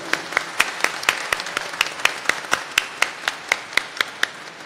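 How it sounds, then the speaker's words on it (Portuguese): Rhythmic unison clapping at a public hearing of the Rio de Janeiro state legislature, sharp regular claps about five per second, steady and fairly close, with faint room murmur beneath. "peço uma salva de palmas em memória da Dalva Lazzaroni"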